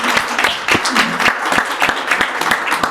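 Audience at an evening talk applauding the Salvation Army, a few seconds of dense, steady clapping from a crowd indoors.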